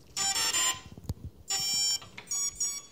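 An RC model's electronic speed controller plays its startup calibration tones: a series of loud, short electronic beeps at varied pitches with brief gaps between them, close and clear.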